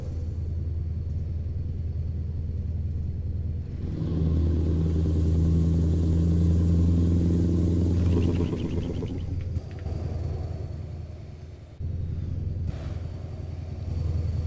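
A Scania R730 V8 truck engine in a video game rumbles and drones continuously, swelling into a deep, loud revving roar midway before settling back to a steady hum.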